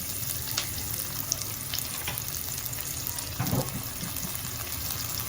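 Pakbet vegetables with onion and tomato fry in a pan as soy sauce goes in, giving a steady close sizzle and crackle with a brief louder hiss partway through.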